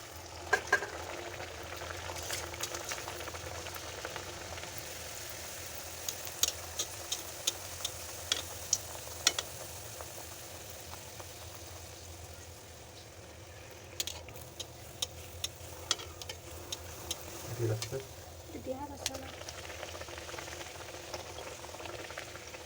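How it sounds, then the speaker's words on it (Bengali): Kachoris fry in hot oil with a soft, continuous sizzle, dotted with occasional sharp crackles and pops, heard close and fairly quiet with no talking. "তো চলো এবার ভেজে নেওয়া যাক।"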